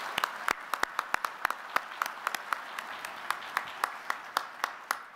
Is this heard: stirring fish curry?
no